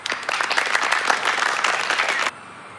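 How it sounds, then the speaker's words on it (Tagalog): Lively audience applause welcoming two debaters at a Filipino balagtasan verse-debate, a dense wash of many hands clapping for over two seconds before cutting off abruptly, with no talk over it. "Salubungin ng palakpak ng masigla't masigabo ang dalawang salarangan"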